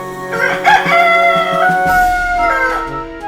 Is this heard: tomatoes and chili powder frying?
no